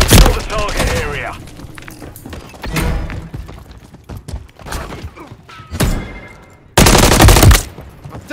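Bursts of automatic and single gunfire from Call of Duty: Modern Warfare 3 multiplayer, loud and close, with sharp repeated shots and thuds, a heavy sustained volley near the end, mixed with game announcer voice lines.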